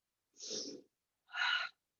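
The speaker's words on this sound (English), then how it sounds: "I want to hear you breathing." Two distinct breaths during a yoga exercise with weights, a soft inhale followed by a sharper, airy exhale, each under a second and close but quiet, with silence around them.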